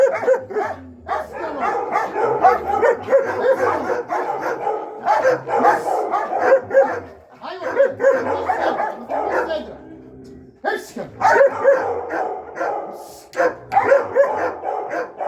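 A guard dog barks repeatedly in bursts during attack training, close and loud, while a handler speaks encouragement between and over the barks.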